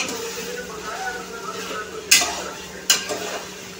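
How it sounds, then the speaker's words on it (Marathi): Vegetables such as cauliflower, potato, carrot and beans are stirred and sautéed in a pot for masala pulao, a soft steady sizzle broken by a few sharp clinks of a spoon against the pot. "आता ह्याही आपण 2-3 मिनिटं परतून घेऊया।"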